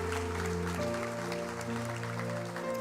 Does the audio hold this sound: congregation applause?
yes